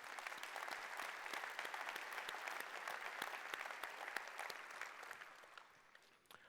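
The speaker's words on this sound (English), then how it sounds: "A big round of applause to all of you." Keynote audience at a tech conference breaking into dense, continuous applause, a steady wash of clapping that stays even and then tapers toward the end.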